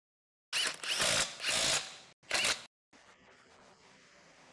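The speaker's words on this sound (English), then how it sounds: "Reinstall the wheels." A power tool runs a Chevrolet's wheel lug nuts on in three loud, close bursts, two longer and one short, each ending in a brief pause, then a quieter clatter follows.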